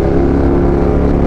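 A KTM Superduke 1290R motorcycle engine roars loudly and continuously at close range, a dense low rumble mixed with heavy wind noise.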